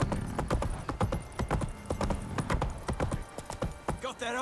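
Hooves of the horse Roach clip-clop steadily in The Witcher 3 video game, a close, even trotting rhythm with a brief whinny near the end, while people talk over it.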